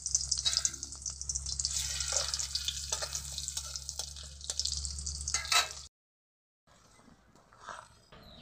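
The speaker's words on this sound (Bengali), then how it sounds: "এখন রসুন দিয়ে ডালটা সম্বার জন্য।" Garlic sizzles loudly in hot oil while tempering dal, a bright, hissing crackle that runs steadily for several seconds before cutting off abruptly, followed by quieter kitchen noise.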